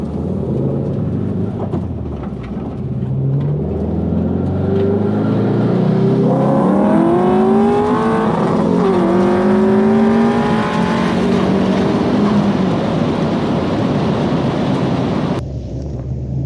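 Close, loud in-car engine drone from a race car on track, rising through gears with climbing revs, then settling into steady high-speed running under heavy wind buffeting, no voices.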